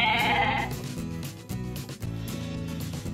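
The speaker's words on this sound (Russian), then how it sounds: "Она бекает." A sheep bleats in a cartoon about farm animals, one short call at the start followed by steady, moderately loud background music.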